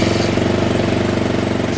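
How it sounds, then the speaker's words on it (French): A motorcycle engine runs close up with a steady, fast throbbing pulse, loud and alone for under two seconds. "C'est lorsqu'on tourne la poignée et qu'on sent que le moteur il réagit vraiment tout de suite."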